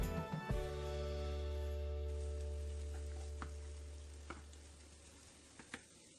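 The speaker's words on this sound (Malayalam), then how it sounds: "ആദ്യം നമുക്കിതൊന്ന് നന്നായി മിക്സ് ചെയ്ത് കൊടുക്കാം" Squid fry being mixed in a pan over a flame, a low steady sizzle under a constant humming drone, with a few sharp utensil clicks against the pan, close and faint, no voices.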